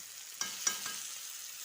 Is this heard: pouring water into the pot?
no